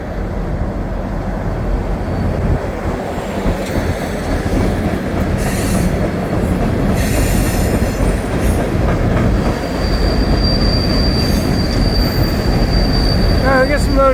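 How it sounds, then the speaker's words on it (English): A loaded freight rock train rolls steadily past at a rock facility in Bunnell, a continuous loud rumble of railcars and wheels with a thin high wheel squeal drifting in partway through and some brief clicks near the end. "The rock train."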